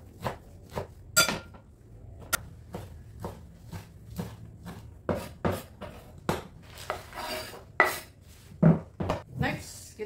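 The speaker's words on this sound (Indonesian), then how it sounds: "Ini daun singkong sudah diperas, baru kita potong-potong." A knife chops squeezed cassava leaves on a board with a series of sharp, irregular knocks, close and moderately loud, with faint background movement between strokes.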